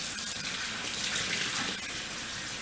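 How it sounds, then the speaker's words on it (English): Water runs steadily from a bathroom sink tap during face rinsing, a continuous close hiss and splash with no pauses. "I'm gonna rinse this out, and then I'm gonna swipe again"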